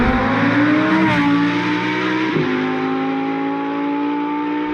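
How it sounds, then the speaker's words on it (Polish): A naturally aspirated V10 sports car engine holds a high, sustained howl, its pitch dipping briefly between gear changes before settling into a steady, loud drone. "przepiękny dźwięk wolnosącej V10 już wkrótce..."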